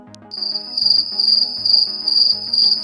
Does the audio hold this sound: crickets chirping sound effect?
yes